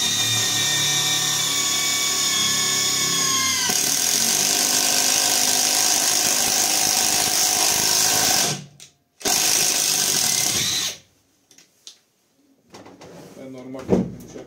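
A Catpower 4226 cordless screwdriver drives a 12–13 cm screw into the hardest part of a piece of wood, giving a steady, loud whirring drone. The drone cuts off briefly, resumes, then stops, leaving a few faint clicks and handling sounds.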